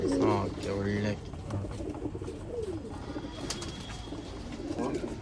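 Pigeons at a Bangalore pigeon sale, old-line breed pairs, give soft repeated coos in the background while someone talks loudly over them at close range.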